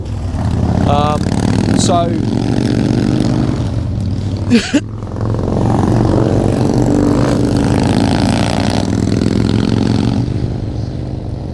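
A 2007 Yamaha Fazer 1000 motorcycle engine runs with a steady throbbing drone through most of the stretch, briefly dipping near the middle before building back, while people talk over it.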